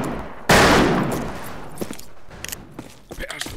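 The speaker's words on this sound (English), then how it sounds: "now we got a revolver. 6 bullets, that's quite nice." A revolver in the Western shooter game Fistful of Frags fires one loud, close blast that rings out and decays, followed by softer mechanical clicks and smaller hits, with a voice faintly present.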